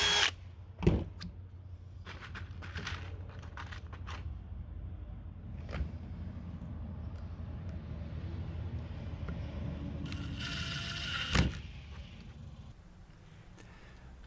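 A power drill drives screws into 3D-printed hurdle uprights, giving short buzzing whirs and clicks at low level against quiet room noise, with one longer run of drilling near the end.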